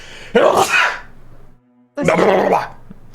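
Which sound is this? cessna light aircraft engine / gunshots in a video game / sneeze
sneeze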